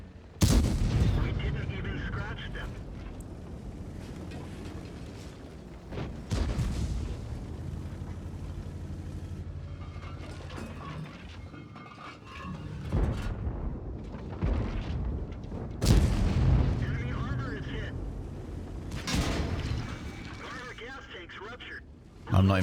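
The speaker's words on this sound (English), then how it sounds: "we are about to receive many, many artillery shells" Artillery shells land around a tank in World of Tanks, a series of deep booming impacts and heavy rumbles spread across the clip, with engine and battle noise between hits and a voice talking over much of it.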